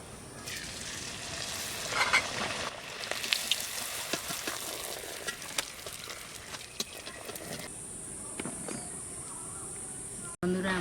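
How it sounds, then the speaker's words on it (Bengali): Kachori deep-frying in oil sizzles and bubbles steadily at close range with occasional stirring clicks, a voice speaking now and then over the frying. "একইভাবে সব কচুরিগুলো ভেজে নেব।"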